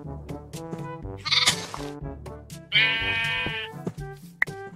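Goats bleating in a farming video game: loud, close, wavering animal cries in two long calls with a few short bleats between, over a steady musical background, no talk.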